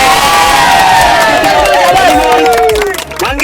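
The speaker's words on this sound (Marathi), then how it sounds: "त्यामुळे सर्वांनी जोरदार टाळ्या वाजवायच्या आहेत." A loud crowd at an outdoor village volleyball league cheers, whistles and shouts in a dense, continuous roar, with children's voices and high calls rising over it near the end.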